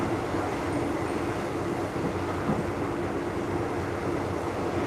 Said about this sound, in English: We'll hop on the train and go.